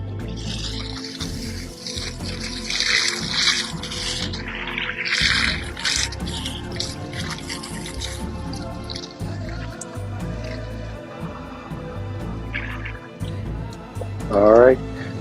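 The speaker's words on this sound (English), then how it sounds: "I'm gonna turn this water off real quick." Running water splashes and trickles close by outdoors among aloe, agave and dragonfruit plants, then dies down to scattered drips as it is shut off, with talking in the background.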